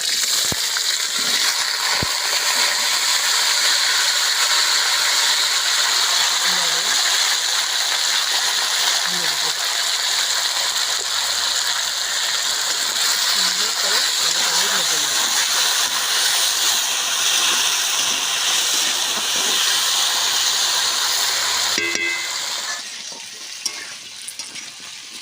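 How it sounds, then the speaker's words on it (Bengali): Potatoes fry in hot mustard oil in a wok over a village wood stove, a loud, steady, dense sizzle that runs unbroken for most of the stretch before easing off near the end. "তেলটা গরম হয়ে গেছে, আমি আলুগুলো ভেজে নেব।"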